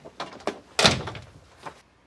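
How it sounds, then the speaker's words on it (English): An indoor door swung shut, with a few light handling knocks before a single solid thunk as it closes, then a soft rattle settling afterward, nearby and fairly quiet. "now I'm closing the door"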